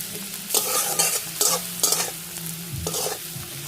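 Onions frying with salt in a pan, stirred vigorously: loud, repeated bursts of spatula scraping over a constant sizzle, close and with no voices.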